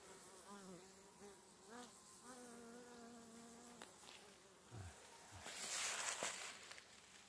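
Bees buzz near purple flowers in a hay meadow, with close insect drones that rise and fall in pitch as they fly past, then rustling and a louder burst near the end.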